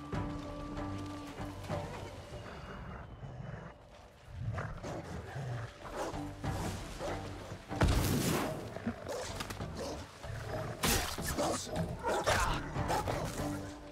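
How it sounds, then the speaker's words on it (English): Dogs barking and growling in Ghost of Tsushima, a run of sharp barks and snarls with several louder bursts, close and agitated, mixed with other game noises and some speech. "The dogs."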